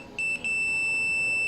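A steady electronic buzzer tone from a circuit-tested, repaired USB flash drive's wiring, loud and close, with a brief dip near the start before holding continuously.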